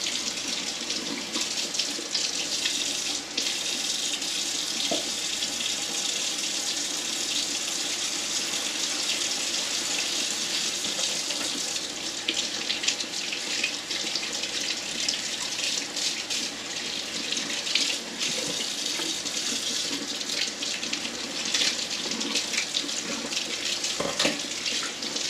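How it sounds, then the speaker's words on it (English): Tap water runs steadily into a kitchen sink while beets are scrubbed, a continuous close splashing rush with small changes as hands move through the stream. "Now I've cleaned the sinks beforehand so I can just pop these into the other side of the sink."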